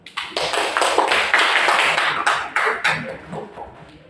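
A class of students applauds at the end of a computer networking lesson, with a sudden onset of brisk, overlapping claps that stay lively before thinning out toward the end.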